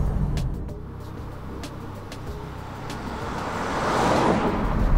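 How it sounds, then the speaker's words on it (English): Steady road and tread noise from Goodyear grand touring all-season tires while driving blends into a broad, continuous rumble heard from inside the car, swelling slightly louder toward the end. "There is some mild tread noise that kind of blends into a broad tone."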